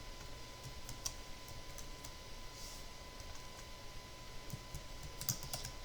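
Keystrokes on a computer keyboard while entering text into a Microsoft Word document, soft scattered clicks over a steady faint room hum, with a few sharper taps standing out.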